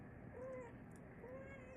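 A pet cat meows twice, faint and drawn out, at an even spacing over a steady hiss of background noise.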